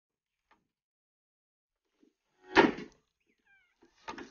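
A single short cat meow up close in an otherwise quiet room, followed a moment later by a brief knock or thud.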